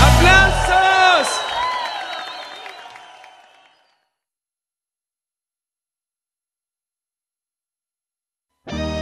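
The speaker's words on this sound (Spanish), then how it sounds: "¡Aplausos!" Audience at a Christian worship concert breaks into cheers and applause, with whoops and shouted voices at first, loud and close, then thinning and tapering into silence before a brief burst of sound returns at the very end.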